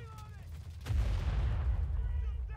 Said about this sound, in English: Speaking of artillery, I'm gonna call one in.